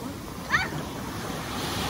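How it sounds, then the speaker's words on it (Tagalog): Ocean waves wash steadily onto a beach in Ilocos, a constant broad rushing sound with a short high chirp partway through. "Malakas ang alon dito."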